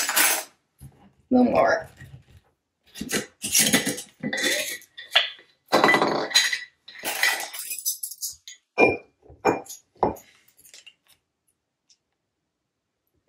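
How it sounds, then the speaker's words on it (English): Salt is scooped and tipped into a bowl of mustard seed with metal measuring teaspoons, giving light clinks and taps that repeat several times, with a voice speaking briefly between them. "Then you want to add 2 teaspoons salt per recipe."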